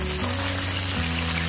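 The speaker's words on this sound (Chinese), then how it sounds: "翻炒均匀" Pork belly stir-frying in a wok gives a dense, steady sizzle throughout, loud and close, with a low hum running beneath it.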